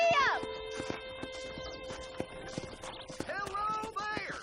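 Horse hooves beating on the ground in Red Dead Redemption, a quick, irregular clopping under music and a voice, moderately faint.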